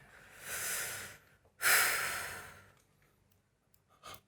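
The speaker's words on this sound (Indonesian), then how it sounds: "Kenapa lo mau nanya kenapa napas gue berat?" A smoker breathes heavily and audibly, with two long, close, raspy exhalations like deep sighs, the second louder, followed by quieter breaths and a short snort, with no talk.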